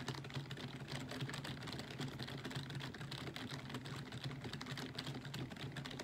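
Rapid keyboard typing clicks patter continuously while an online business simulator game is played, moderately close and fairly quiet, with a low hum underneath.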